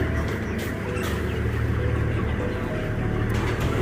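Many broiler chickens clucking together in a dense, continuous chatter over a low engine-like rumble, steady throughout, as they are moved for transport.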